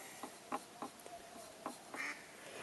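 Several short duck quacks scattered over a couple of seconds, moderately faint against a steady outdoor background hiss.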